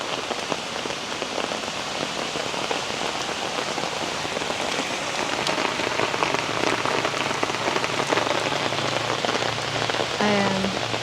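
Heavy typhoon rain pours down steadily, a dense hiss of drops drumming on surfaces close by, constant for the whole stretch with no voices.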